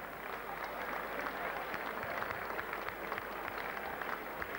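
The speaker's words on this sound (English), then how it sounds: "Having a big round of applause for the two warriors" A boxing crowd applauds the two fighters after a bout, a steady wash of distant clapping and crowd noise, fairly faint and even throughout.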